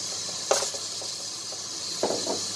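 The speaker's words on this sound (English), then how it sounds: "Sorry for the noise. I'm using my pressure cooker." A pressure cooker on a home stove gives a steady, fairly faint hiss of escaping steam, with two brief louder bursts and light kitchen clatter.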